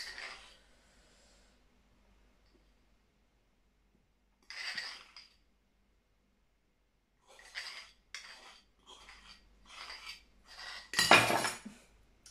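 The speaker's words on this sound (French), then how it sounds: "On mélange, bien sûr, après avec toute la sauce." Gnocchi and cauliflower being stirred into curry sauce in a dish, giving short scraping and clinking bursts of a utensil against the dish, separated by quiet pauses and ending in a louder clatter.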